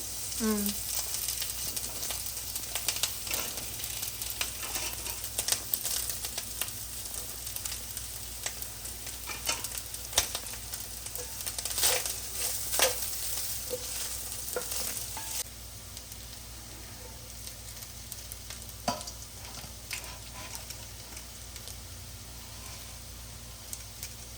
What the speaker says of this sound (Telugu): జీడిపప్పు వేస్తున్నాను ఓకే ఫ్రై చేస్తుంది ఇది